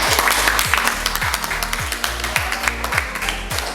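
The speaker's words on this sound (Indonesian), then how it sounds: "Oke, kita beri tepuk tangan." Classroom students give a short round of applause, with quick overlapping claps that fall into a fairly regular rhythm, loud and close, and no talk over them.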